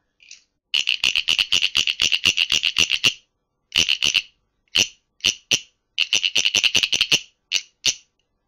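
Rapid bursts of bright wooden rasping chirps from a wooden cricket toy being scraped, a long run of quick strokes followed by shorter groups with pauses, loud and close with no talking.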